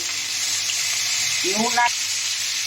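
Cauliflower florets sautéing with turmeric in hot oil in a pan while making egg pulao, giving a steady close sizzle throughout, with a brief voice-like tone rising near the end.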